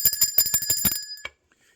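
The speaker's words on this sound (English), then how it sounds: "Let's ring the bell for that." A bright bicycle-style bell rings rapidly about ten times in a fast trill, then one final ring before it fades into silence, loud and alone.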